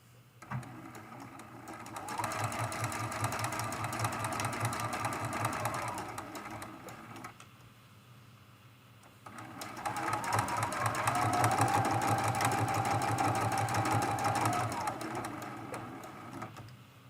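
A sewing machine runs a longer straight stitch near a fabric edge on a hexagon mug rug, whirring steadily in two close bursts of about four and seven seconds with a quiet pause between.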